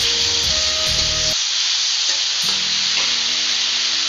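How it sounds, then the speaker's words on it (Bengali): Capsicum, tomato and chopped green chilli frying in hot oil give a loud, dense, continuous sizzle that runs throughout, with low stirring rumbles near the start and again partway through. "এবার আমি এর মধ্যে ক্যাপসিকাম দিয়ে দিলাম আর টমেটোটাও দিয়ে দিলাম, কাঁচা লঙ্কা কুচিটাও দিয়ে দেবো। এটা একটু নাড়াচাড়া করব।"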